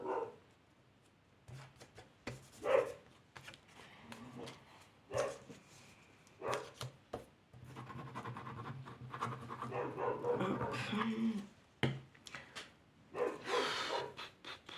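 A dog panting in rapid bursts close by, with a few short barks and scuffling noises scattered through, loud in moments and quieter between, with no clear speech.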